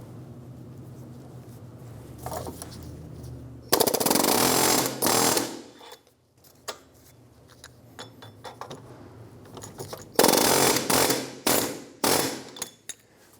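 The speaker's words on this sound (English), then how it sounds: "I'm going to use an air hammer and go through the front and put my chisel on one of the ears of the wheel bearing" Air hammer driving a chisel against the ear of a rusted rear wheel bearing on a 2003-2007 Infiniti G35 to twist it in the knuckle: loud, close rapid hammering in several bursts separated by short pauses and metallic clinks.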